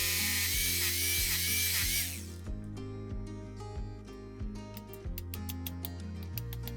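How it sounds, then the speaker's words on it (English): A 3/8-inch masonry bit bores into a concrete house slab, a loud high-pitched whine at first, then a lower grinding drone with repeated rhythmic knocks as the drill works. "take a masonry bit that's the same size as the rebar, 3/8, and drill a hole into the slab of the house"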